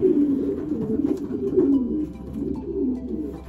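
Racing pigeons in a loft coo continuously, close by and moderately loud, their low throaty warbles rolling in repeated phrases.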